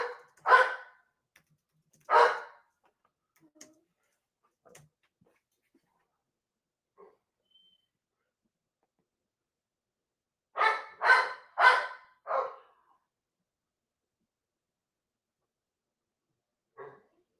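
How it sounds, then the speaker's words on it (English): A dog barks in two short pairs early on, then a quick burst of four or five barks after a long quiet pause, with a faint yip at the end. "barking."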